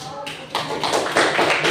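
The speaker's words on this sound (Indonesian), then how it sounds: "Berikan tepuk tangan." A classroom of students applauds together, a dense patter of claps that swells after a brief quieter start and stays steady and fairly close throughout.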